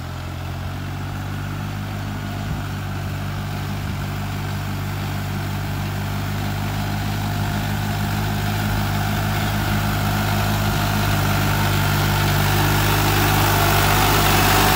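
A New Holland 3630 tractor engine runs under load while pulling a 15-tine tiller through a field, a steady low drone that grows slightly louder over time with no voices.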